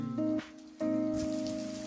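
Water falling and spraying at Harishchandragad, a steady broadband wash with a brief drop in level partway through, close and fairly loud, with no voices.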